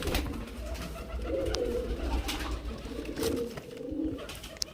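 Giribaz and Kalshira pigeons from Murshidabad coo in soft, repeated low murmurs amid a busy, noisy background with scattered knocks and clicks.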